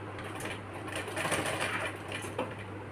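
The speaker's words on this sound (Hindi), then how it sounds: "इस तरह से हम बिल्कुल इसको किनारे किनारे पे इस तरह से सिलाई लगाते चले जाएंगे।" A sewing machine stitches steadily along the folded edge of a small child's shirt, a close, continuous mechanical whir with a low steady hum beneath it and no speech.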